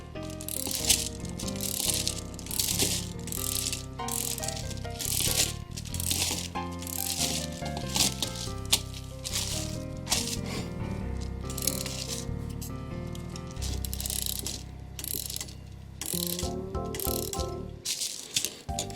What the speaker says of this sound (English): we wind the spring up